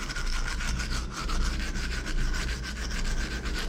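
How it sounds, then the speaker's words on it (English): Continuous harsh scraping and grinding of a drill-driven wire brush stripping paint from a Yamaha XT250 motorcycle engine, steady and unbroken throughout. "a wire brush and a drill brush is totally fine"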